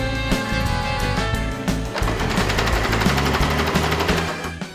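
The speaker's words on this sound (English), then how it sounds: "we finished sewing the last little part, which was just taking the basic straight stitch around our leg hole openings" Sewing machine running a basic straight stitch around the leg hole openings of a fabric baby shopping cart cover, a steady close mechanical whir with rapid rhythmic needle pulses throughout.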